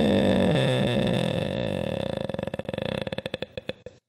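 A human voice imitates a creaky old door slowly closing, a drawn-out buzzy creak that breaks into faster, then slower separate clicks before it stops, loud and close with no other sound.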